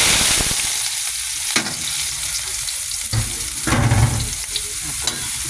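Food frying in a pan until soft, a loud continuous sizzle broken by several stirring scrapes and bursts of crackle, heard up close with no talk.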